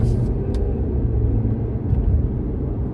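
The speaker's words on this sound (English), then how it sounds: "like a good half throttle, that's all you need, and you barely even heard the engine" A steady, low car engine and road rumble from a facelifted Mercedes-Benz W213 E-Class at half throttle, smooth and continuous without revving, heard from inside the hushed cabin.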